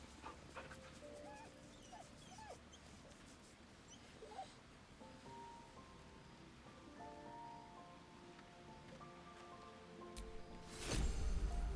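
A dog whimpers and whines in Baldur's Gate 3 with a small bag held in its mouth, repeated soft whining tones over a low ambient game background, ending in a louder burst of noise.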